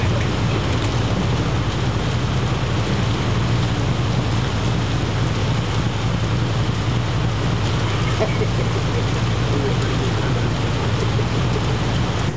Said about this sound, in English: nothing but rain came after that.